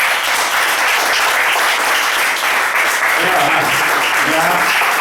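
Dense, steady audience applause from a crowd at a political conference talk about energy, continuing loudly and evenly throughout, with faint voices creeping in near the end.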